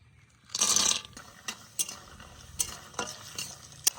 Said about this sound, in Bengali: প্রথমে ডালের বড়ি ভেজে নেবো।